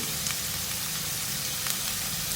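Spiced potato filling for baked aloo samosas fries in a pan, giving a steady, continuous sizzle at moderate level with no talking over it.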